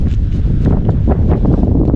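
Strong wind buffets the microphone on the misty, cool Vercors plateau during a hiking traverse near Font d'Urle, producing a loud continuous low rumble and roar with gusty fluctuations and no voices.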